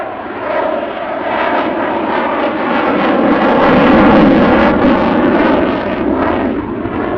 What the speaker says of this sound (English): There's just a slight let up here as the aircraft decelerates for slow speed flight